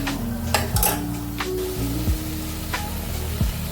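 Urad dal, curry leaves, chopped chillies and onion fry in a pan, a low sizzle under repeated clinks and scrapes of a spoon stirring against the metal, close and unaccompanied by speech.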